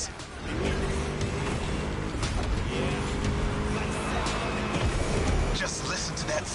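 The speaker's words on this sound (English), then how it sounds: "Just listen to that V8 like a chunky, down-tuned guitar riff." A V8 engine in The Crew Motorfest racing game rumbles steadily with deep, chunky revs and shifting pitch as the car drives on, fairly loud throughout with no talk over it.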